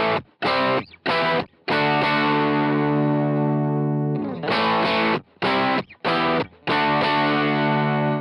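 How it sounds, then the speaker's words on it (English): Electric guitar through a direct amp with speaker impulse responses: distorted chords played in choppy stabs, then one long sustained chord ringing out before more rhythmic stabs, loud and close with no talk. "Here's what that sounds like now with the speaker IRs onto the direct amp sound."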